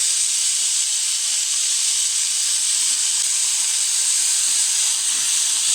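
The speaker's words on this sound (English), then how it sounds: "Saute well." Chopped onions with salt sauté in a little oil in a pan as filling for a loaded egg omelette, making a loud, unbroken close hiss without talk.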